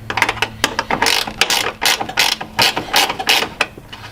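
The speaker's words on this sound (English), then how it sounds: "Loosen up the nut the rest of the way." Ratchet wrench loosening the nut on a Mazda ND MX-5 taillight: a close, rapid clicking pawl in quick bursts with short pauses, no talking.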